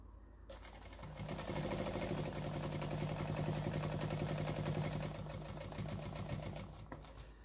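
A sewing machine runs a long, steady stretch of rapid stitching while quilting a stained glass window quilt, close and continuous after a short start, its even mechanical rattle humming throughout before it slows at the end.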